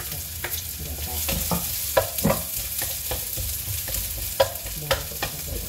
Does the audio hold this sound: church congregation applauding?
no